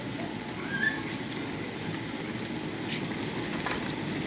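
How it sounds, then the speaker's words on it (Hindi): Yogurt fries in a pan while a kofta gravy is being prepared, giving a steady, dense sizzle that holds evenly throughout, close and moderately loud, with no voices. "तो दही को हम अच्छे से भूनेंगे।"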